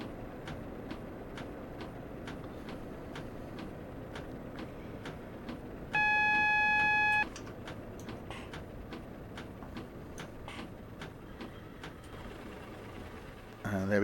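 A Pacer diesel railcar in Train Simulator 2021 eases to a stop at Thirsk station on the East Coast Main Line. A steady rhythmic clicking runs throughout, broken by a clear electronic beeping tone in the middle, under quiet background noise.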